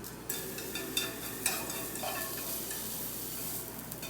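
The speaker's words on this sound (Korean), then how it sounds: "그리고 표고 가서 쭉 볶아주세요." Sliced zucchini and shiitake mushrooms stir-fry in a pan for kalguksu, a soft steady sizzle broken by a few spatula scrapes and taps, close and alone.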